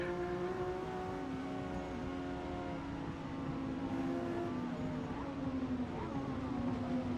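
A Lamborghini Murcielago RGT race car in the Gran Turismo 7 video game, driven on a wet track, holds a steady, droning engine note with slowly shifting pitch, running continuously at moderate volume with no talking.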